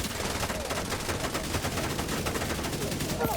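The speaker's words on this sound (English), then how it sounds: "have some bullets to the face" Rapid gunfire in a video game, with dense bursts of bullets cracking continuously and loudly up close for a few seconds.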